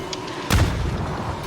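A single deep explosion blast in PUBG bursts out partway through, its rumble lingering over a steady background hum.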